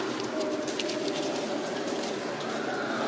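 Pigeons coo at a pigeon show in Wrocław, soft repeated throaty calls rising from a constant hall murmur of birds, with no clear voices.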